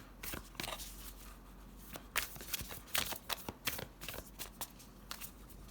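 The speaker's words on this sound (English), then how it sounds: "Let's go ahead and pull some oracle cards on camera" Oracle cards being shuffled and drawn close up, a quick run of soft riffling slaps and card flicks in an irregular rhythm, quiet and alone without talk.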